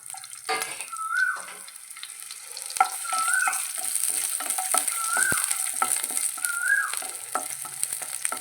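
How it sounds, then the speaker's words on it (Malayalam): Dried red chillies, shallots, a piece of tamarind and ginger fry in a pan for a Kerala peanut chutney, giving a steady sizzle. Spoon or ladle scrapes and stirs sound at a regular rhythm, and there is no speech. "മൂന്ന് മുളക് വറ്റൽമുളക് അഞ്ചെട്ട് ഉള്ളി ചെറിയ കഷ്ണം പുളി ഒരു ഇഞ്ചി കഷ്ണം ഇതും കൂടി നമുക്കതിൽ മൂപ്പിച്ചെടുക്കാം"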